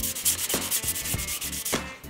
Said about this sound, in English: Somebody's got to sand all these parts.